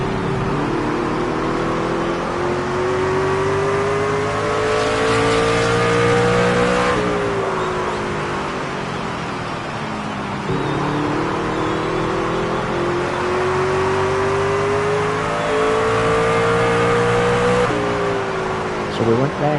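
Race trucks from a Craftsman Truck Series game at Martinsville Speedway, engines revving and climbing in pitch as they accelerate, then easing off and winding up again in two surges while a commentator talks over them.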